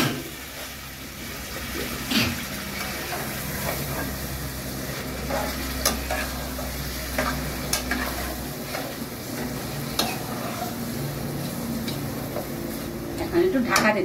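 Meat dropped into fried spice paste in a pot, sizzling steadily while a spoon scrapes and stirs with occasional clinks, close and continuous throughout.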